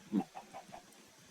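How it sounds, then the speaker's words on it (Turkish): A chicken in the Minecraft video game clucks in a short burst of three or four quick, faint clucks, heard alone. "İnşallah o attığım normal tavuktu"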